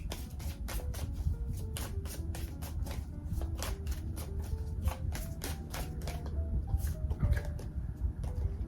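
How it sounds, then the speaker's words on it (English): Tarot cards are shuffled by hand in a quick run of crisp riffling clicks that carries on steadily and close, at a fairly soft level with no talk. "let's pull another card from the tarot"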